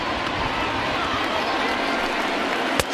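In the baseball video game MLB The Show 20, a stadium crowd of about 36,000 roars to its feet in the ninth inning with one out left: a dense, steady wall of cheering, ending in a sharp crack.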